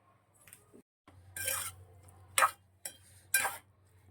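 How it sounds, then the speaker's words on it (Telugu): Cauliflower and prawn curry being stirred in a pan, with a few clinking scrapes of a spoon against metal over a low steady hum, each stroke short and close. "ఇంకానండి ఇవన్నీ కలిపేస్తున్నాను"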